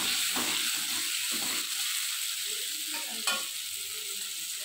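Pumpkin pieces fry in a pan with a steady, close sizzle and hiss, broken by a few soft stirring scrapes and one brief clack, with no one speaking.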